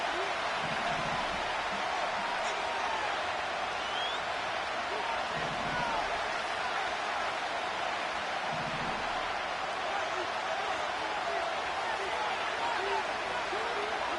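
An American football video game with a steady roar from the packed Arrowhead stadium crowd, a loud continuous wash of cheering held at even level throughout, with occasional faint thuds underneath.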